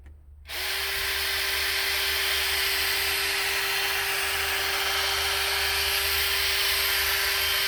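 A power drill polishing a headlight starts up and runs continuously with a steady, close, high-pitched whine and buzzing hum, no talking.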